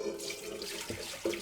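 Melted butter and milk pouring from a pan into the bowl of an Ankarsrum stand mixer, a steady liquid trickle with a couple of splashy surges near the end, close and moderately loud with no talking.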